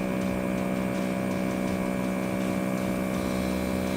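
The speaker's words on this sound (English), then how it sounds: "So the ARB compressor was a little faster." An ARB air compressor runs steadily while inflating a tire to 30 PSI, a close, constant mechanical drone with an even tonal hum and no breaks or speech.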